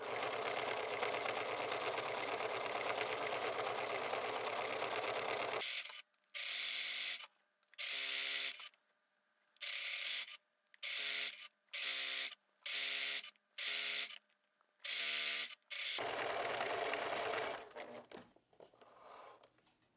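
A sewing machine stitches a T-shirt fabric seam, running in a long steady whir, then a series of short even bursts with brief pauses, and finally another sustained run, all loud and close.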